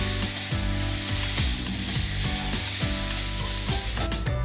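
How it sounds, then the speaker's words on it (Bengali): Boiled Bilati hog plums (amra) fry in oil while being stirred. A steady, loud sizzle runs throughout over a constant tonal backdrop. "আগে থেকে সেদ্ধ করে রাখা আমড়াগুলো এখন তেলের মধ্যে দিয়ে ভালো করে একটু নেড়ে চেড়ে ভেজে নেব"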